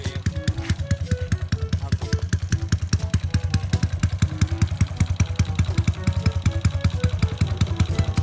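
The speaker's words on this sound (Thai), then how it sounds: "เสียงท่อ เป็นท่อของเทอร์โบนะครับ" A Honda Wave 110i motorcycle fitted with a turbo exhaust pipe idles with a rapid, even chug of exhaust pulses, close and steady throughout, with a light mechanical clatter on top.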